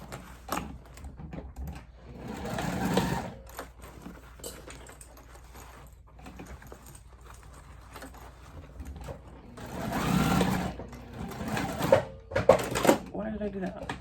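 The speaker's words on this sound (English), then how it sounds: "I'm not sewing in far" Sewing machine stitching a seam on a backpack, its mechanical whir running in short bursts with a louder stretch near the end, mixed with handling noise and a voice talking over it.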